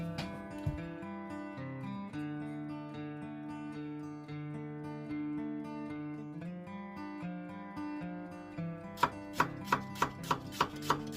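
An onion being finely chopped with a sharp knife on a board, with a backing of steady music and a quick run of crisp, evenly spaced knife strikes near the end.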